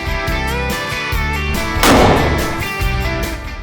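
A firearm fires one loud, sharp shot near the middle of a short stretch at an outdoor shooting outing, with a steady, tonal background sound running underneath.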